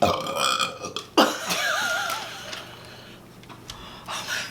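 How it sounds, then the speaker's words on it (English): A long, drawn-out burp that rolls through several belches in one continuous eruption, close and loud with a wavering pitch, heard on its own without talk. "That was like 6 burps in one."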